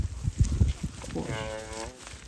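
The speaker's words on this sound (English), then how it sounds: "listen to the mother mooing away, so she's happy" A mother cow moos near her newborn calf on a farm, one long, close, resonant low call after a few rustling thumps.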